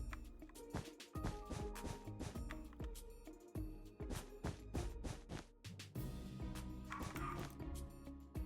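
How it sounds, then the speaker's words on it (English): A dog barks repeatedly in a rapid, irregular series of sharp yips and woofs over a dense, cluttered background, loud and close throughout. "Bark, bark."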